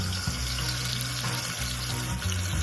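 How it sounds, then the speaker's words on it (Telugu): Onions and green chilies fry in hot oil with a close, steady hiss and sizzle, while a low, uneven hum sounds beneath it throughout. "సో కొంచెం లైట్ గా ఫ్రై చేసుకుందాం, ఆనియన్స్ చిన్న బ్రౌన్ కలర్ వచ్చినంత వరకు."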